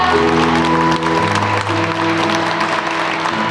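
Wedding guests in a convention wedding hall in Cheonan applaud after the bride and groom bow to each other, the clapping blended with sustained background music playing loudly.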